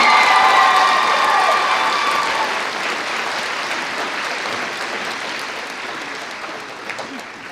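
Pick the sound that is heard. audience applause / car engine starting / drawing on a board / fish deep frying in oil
audience applause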